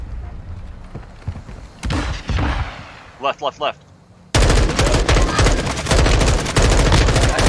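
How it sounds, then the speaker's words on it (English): Gunfire in the Call of Duty Warzone DMZ video game: scattered shots, then a loud sustained burst of rapid automatic fire under a player's shouted callouts. "I'm hearing gunshots."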